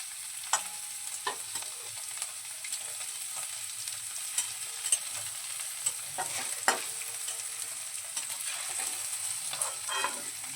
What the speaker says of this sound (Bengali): পনিরগুলো একদম হালকা লাল করে একটু ফ্রাই করে নেব